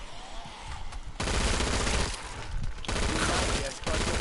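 Rapid bursts of P90 submachine gun fire in Killing Floor 2, loud and close, in several sustained volleys separated by short pauses.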